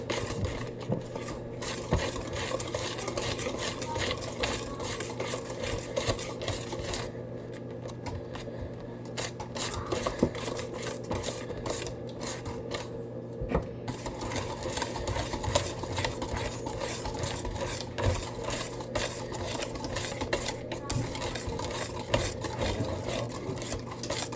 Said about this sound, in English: You want to mix it really good so that way you don't have like the little chunks of cake batter.